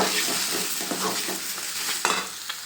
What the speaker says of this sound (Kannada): ಒಂದು 2 ಮಿನಿಟ್ಸ್ ಎಲ್ಲ ಫ್ರೈ ಮಾಡ್ಕೊಳ್ಳಿ ಸಾಕು